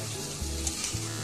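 Chicken masala with added coriander and cumin powder is stirred in a pan, giving a steady close sizzle with soft scraping strokes of the spoon and no talking.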